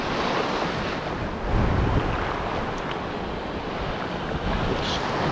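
Ocean waves break and wash in a continuous roar on a shore with big waves during a fishing lure test, with gusty wind buffeting the microphone; no voices.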